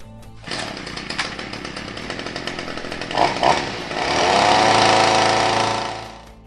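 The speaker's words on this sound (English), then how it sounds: "Turn your handheld string trimmer into a powerful submersible pump." A handheld string trimmer fitted with a Tornado Force 5 submersible pump attachment runs with a loud, buzzing two-stroke whine that rises into a sustained high-revving roar before trailing off.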